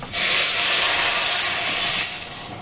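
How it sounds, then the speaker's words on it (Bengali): A steady rushing hiss of boiling water being poured, starting abruptly and continuing for about two seconds before tapering off, close and fairly loud. "যে জলটা একদম ফুটে উঠবে সেই জল কিন্তু এখানে দিয়ে দিতে হবে"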